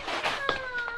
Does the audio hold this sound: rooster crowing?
no